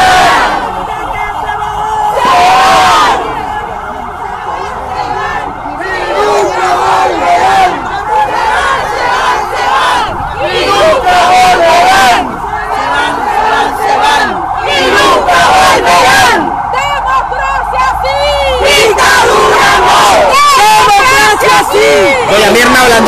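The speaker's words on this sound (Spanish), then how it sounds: "las consignas que gritan estos jóvenes opositores al gobierno" Young opposition protesters against Daniel Ortega's government shout slogans in a loud, continuous crowd roar of chants, cheers and yells, close and dense throughout, facing a large police deployment.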